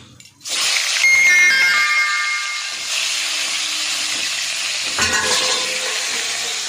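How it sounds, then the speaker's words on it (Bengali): Loud, steady sizzling of fish frying in hot oil, a burst of crackling at the start that settles into a continuous hiss, with faint clinks. "তেল গরম হয়ে গেছে, মাছগুলো ভেজে নেবো"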